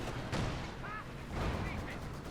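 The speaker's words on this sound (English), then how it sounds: "he's calling in some artillery" Artillery fire is called in during a Company of Heroes 2 match, heard as a low rumble of distant, muffled booms with a couple of brief whistles over it, faint and brief.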